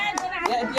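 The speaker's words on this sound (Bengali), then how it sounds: "একবার জোরে হাততালি হয়ে যাক।" Three quick, sharp hand claps from young village girls playing a game, evenly spaced and close, with a voice talking over them.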